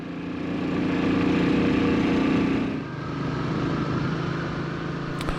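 A Royal Enfield motorcycle engine runs steadily at a constant idle-like hum, close and fairly loud, dipping briefly midway before resuming, with no talking.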